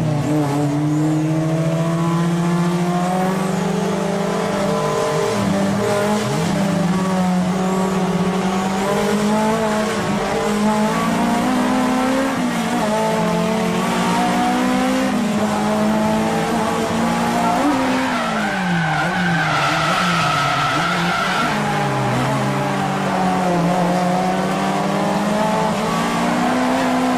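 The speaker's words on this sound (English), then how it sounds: "Sato's car nearly tags Hibino's car on the exit, so they are out of the twin drift already." Drift cars battle in a twin drift at Nakayama, tires squealing in long wavering tones while engines rev and rise in pitch, loud and continuous throughout with no talking.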